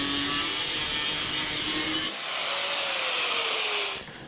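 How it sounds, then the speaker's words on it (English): Aluminium flanges are cut on a custom cooling build: a steady, close, loud rasping saw cut that pauses briefly, then resumes with a shifting pitch before stopping. "we're even trimming the flanges on this aluminium"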